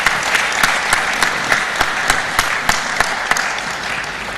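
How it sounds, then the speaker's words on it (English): Dense, loud applause from an audience at a corporate governance event in Nigeria, a continuous roar of many hands with occasional sharper claps punctuating it throughout. "Please, let's give him another round of applause"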